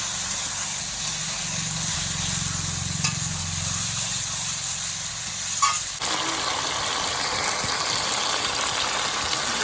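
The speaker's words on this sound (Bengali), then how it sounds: "এভাবে মাংসটা আমি ভালো করে কষিয়ে নিচ্ছি" Duck meat being stir-fried in a pan for a duck curry: a steady broad sizzle with occasional spatula knocks, and a low background hum that cuts out partway through, no talking.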